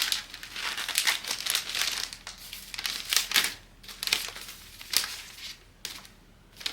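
Gift wrapping paper is folded and creased by hand, giving close, crisp crinkles and crackles in irregular bursts with short pauses between handlings.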